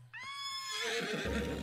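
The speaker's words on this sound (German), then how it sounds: "Aber deine plötzliche Bewegung überrascht das Pferd und es bäumt sich auf und tritt dir ins Gesicht." A horse in a KFC anime dating-simulator video game neighs loudly in one long, rising whinny that breaks into a rough, strained cry as it rears, heard close with no talking.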